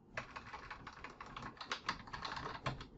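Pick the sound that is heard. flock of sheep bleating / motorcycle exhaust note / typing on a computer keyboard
typing on a computer keyboard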